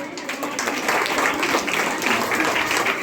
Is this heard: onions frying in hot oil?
no